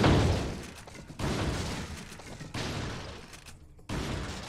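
A shotgun fires repeatedly in Resident Evil 4, with several heavy booming blasts spaced about a second apart. Each blast decays into a noisy tail, with no voices.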